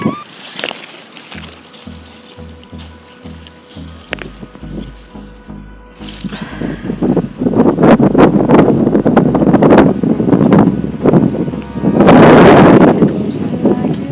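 Strong wind buffets the microphone outdoors in a farm field, heavy gusty rumbling that swells and stays loud for the second half, with a few soft knocks at the start.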